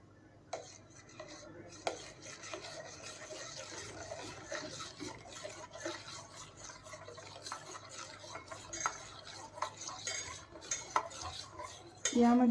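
A spoon stirring a nachni (ragi) ambil mixture in a pot, with soft repeated scrapes and clinks against the metal over a quiet background, fairly faint and continuous, and a brief louder knock near the end.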